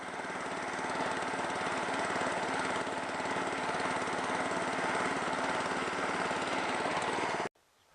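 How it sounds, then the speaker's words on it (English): A cylinder lawn mower cuts a striped lawn and throws grass into its grass box, its steady whirring engine drone loud and close for about seven seconds before cutting off abruptly. "Grass flying into the grass box."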